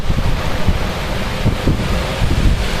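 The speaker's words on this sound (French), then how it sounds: "Oh là là, regardez-moi ça le vent." Strong storm wind gusts during a gale in Clermont-Ferrand roar and buffet the microphone as a continuous, loud, low rumble with surging gusts throughout; no speech.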